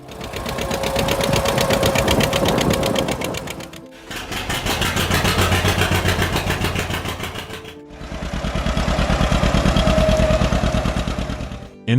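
A 1952 John Deere Model 60 tractor engine runs with a fast, even chugging pulse, heard in three separate takes split by abrupt cuts, each fairly loud and close.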